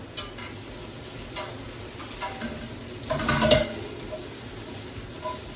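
Vegetables frying in hot oil in a pan for an Indian-French katura egg curry, a soft steady sizzle with scattered stirring clinks and a brief louder burst of frying midway, no talking.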